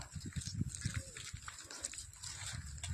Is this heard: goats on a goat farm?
yes